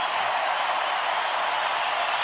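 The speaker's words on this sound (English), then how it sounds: "Now the crowd really getting into it." A large baseball crowd at Globe Life Park cheering during a late-season Angels vs. Rangers game, a steady, broad roar of voices and applause holding at a constant loudness throughout.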